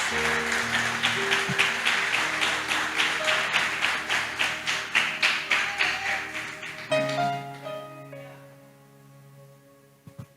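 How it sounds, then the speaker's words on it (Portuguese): A church congregation claps together at a worship service, a dense, steady run of rhythmic applause with music holding underneath, then the clapping thins and fades out, leaving the sustained tones alone. "Desocupe a sua mão e dê a melhor salva de palmas para Jesus"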